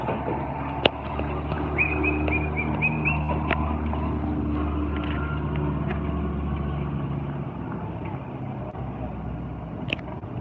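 Black Seat Ibiza rallycross car with its right front tyre gone and suspension damaged at Tor Słomczyn, engine droning steadily at a distance as it drives off, with faint crowd noise around.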